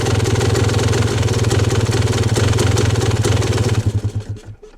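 A Yamaha YZ250 two-stroke motorcycle engine idles rich, close and loud, with a steady burbling pulse that stumbles and dies out in the final second.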